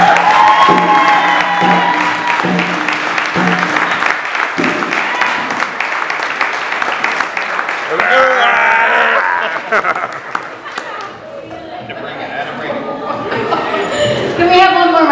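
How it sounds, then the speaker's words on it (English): Audience applause and cheering fill a room at a Bronx poetry event, a dense steady clatter of clapping that swells and fades with voices mixed in. "Can we have one more round of applause?"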